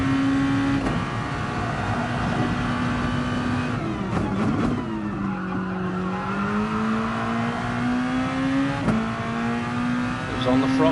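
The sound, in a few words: racing car accelerating in a racing video game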